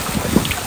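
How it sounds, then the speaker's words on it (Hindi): A small outdoor fountain at Al Majaz in Sharjah splashes water, giving a brief, loud, steady wash of rushing noise, roughened by wind on the microphone. "फाउंटेन को भी आप लोग देख सकते हैं और उसका जो आवाज़ है ये भी आप इंजॉय कर सकते हैं"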